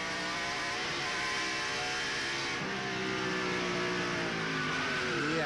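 Onboard view of a 1995 NASCAR Supertruck racing at Bristol, with a loud, steady, close engine drone holding high revs throughout, shifting slightly in pitch midway as the truck goes through the turn.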